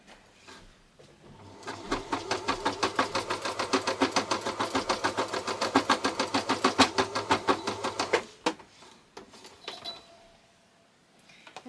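An electric needle felting machine punches rapidly through textile fibres to build a mossy surface, a steady fast mechanical chatter at close range for about eight seconds before it stops and the room goes quiet.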